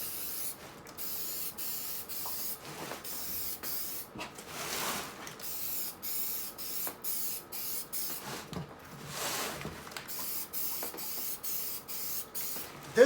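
A spray can painting a Mercedes Sprinter steering wheel: quiet, repeated hissing bursts of spray a few seconds long, broken by short gaps, close by.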